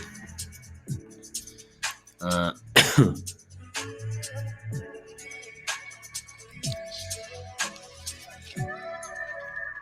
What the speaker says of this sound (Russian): покашливаю в этот момент, но уже гораздо меньше стало